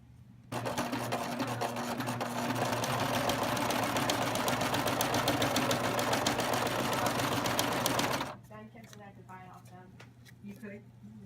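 A sewing machine stitching fabric runs at a steady fast rhythm for about eight seconds, then stops, leaving a low hum and a voice speaking.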